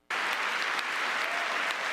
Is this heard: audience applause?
yes